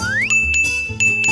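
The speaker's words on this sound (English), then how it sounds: "We can use this bell." A bright bell chimes in the video game Rainbow Friends 2, a rising ring followed by a sustained clear tone struck again with a few quick tinkling repeats over a soft game background.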